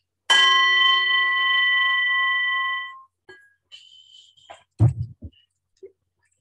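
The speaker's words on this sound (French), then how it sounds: "je vais faire un gong pas trop près de mon micro" A gong struck once during a live meditation session rings out loud and clear, holding a bright sustained tone for nearly three seconds before fading. A few faint knocks and small handling sounds follow.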